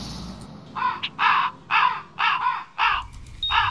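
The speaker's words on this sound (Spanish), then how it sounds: "Eso fue el cuervo." A crow caws five times in a steady rhythm, each call harsh and loud, close by and alone over a faint low background hum.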